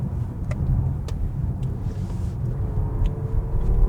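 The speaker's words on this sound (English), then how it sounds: "I also like that little extra type of roary feel that the engine has" A 2025 Audi A5 e-Hybrid accelerates uphill on a wet road, its engine giving a steady low roar and rumble from inside the car with faint ticks above.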